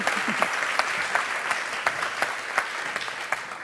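Audience applause at an award show in Brussels, a steady rush of many hands with some individual sharp claps standing out at a regular rhythm, continuous and fairly close.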